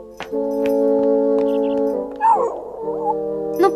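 A cartoon dog whimpers and yips in short, close vocal bursts over a bright, steady animated-series music bed.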